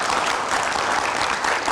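A studio audience applauds on an Indonesian talk show as a legal counsel guest is welcomed. The clapping is dense and steady for the whole moment, fairly loud, with no voices over it.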